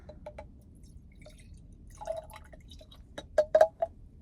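Pumped breast milk is poured from a bottle, heard as faint, sparse drips and small liquid trickles that build into a brief, clearer pouring splash near the end in a quiet room.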